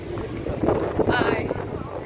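Wind gusts buffet the microphone on the Eminönü waterfront in Istanbul, a loud steady rushing roar with someone talking over it.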